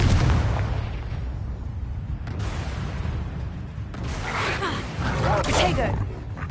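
A Confringo fire spell goes off in Hogwarts Legacy, its crackling bursts flaring near the end over a dense, steady rumble of combat noise, with a shouted spell call mixed in.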